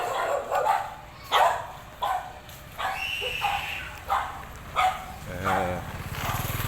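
A dog barks repeatedly on a city street in Cambodia, sharp separate barks at irregular intervals amid steady outdoor background noise.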